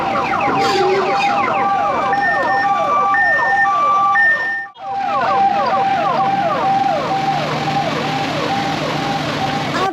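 A passing ambulance's loud wailing siren cycles rapidly up and down, close by, cutting out briefly midway before resuming over road traffic noise.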